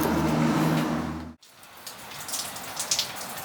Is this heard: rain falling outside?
yes